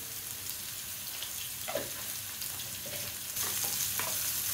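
Salted onions fry in a pan with a dense, close crackling sizzle that swells near the end, with a couple of brief stirring scrapes; no one talks.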